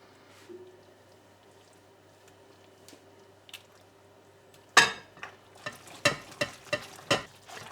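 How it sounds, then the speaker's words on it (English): Seafood spaghetti being tossed and mixed with butter, then sauce poured over: quiet soft stirring at first, followed by a run of wet squishing, slapping stirs and clatters, close and moderately loud. "Mix everything together, and I'm going to pinch some of my sauce and pour it on top of my spaghetti."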